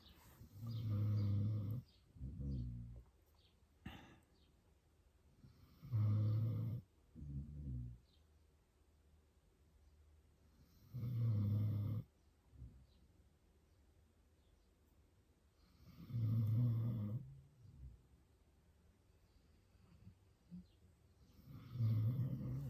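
Loud, deep snoring in slow repeated bursts, each drawn-out rasping breath separated by quiet pauses, close by.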